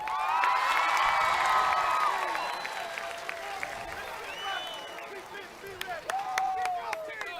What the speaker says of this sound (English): to see the stands, everybody on their feet and cheering for her